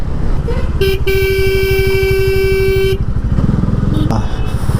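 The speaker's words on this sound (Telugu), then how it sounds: "ట్రాఫిక్ రా బాబు." Busy road traffic heard from a motorcycle on a long ride out of Vizag toward Salur: a close, steady engine throb throughout, a sustained horn blast of about two seconds, and further shorter honks near the end.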